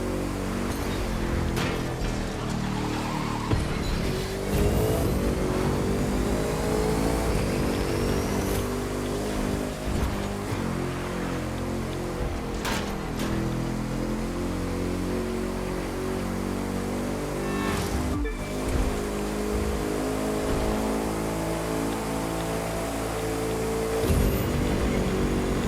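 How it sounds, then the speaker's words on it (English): A fast car's engine hums steadily through a long stretch of driving in The Crew 2, with harmonic engine tones shifting as it accelerates. Scattered road noise and occasional bumps are heard, and there is no talk. "our car's pretty fast, we could catch up"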